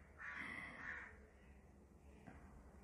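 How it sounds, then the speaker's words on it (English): A crow visiting a window gives one or two faint, short caws over a quiet background near trees and other birds. "That's a crow who keeps coming to my window every day."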